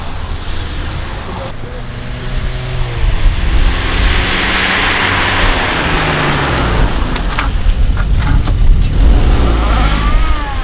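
A diesel car engine, a 324 TD swap, runs steadily and rises as it revs, with a broad hissing noise over it and faint voices at times.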